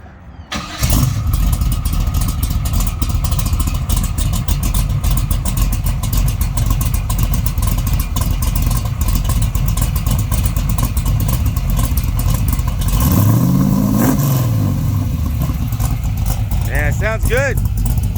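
A 1969 Camaro RS/SS with a 434 cubic-inch, 700-horsepower V8 and five-speed fires up and settles into a loud, lumpy, rumbling idle close by, with a rising rev near the end, while people talk over it.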